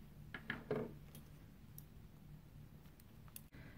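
Scissors snip crochet thread during a jellyfish amigurumi project: a few quiet, crisp metallic clicks close together near the start, followed by faint ticks in a hushed room.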